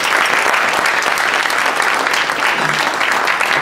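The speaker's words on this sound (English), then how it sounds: "Let's give AOL a big round of applause for the hospitality." Audience applause at a 2014 AOL meetup, dense steady clapping from a full room, loud and continuous for several seconds.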